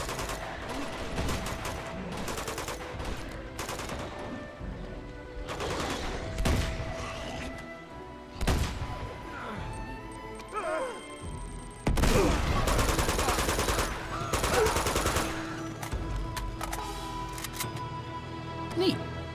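Gunfire in the video game Uncharted 2: Among Thieves, with repeated bursts of shots and impacts amid busy game action, a voice talking over parts of it.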